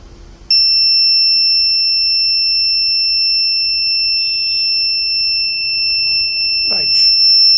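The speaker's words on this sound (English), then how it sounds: "then we will get the buzzer alerts to the system." Electronic buzzer of a power failure indicator circuit for a bulb and fan sounds a steady, loud, high-pitched continuous tone that starts abruptly and holds for several seconds, close to the microphone.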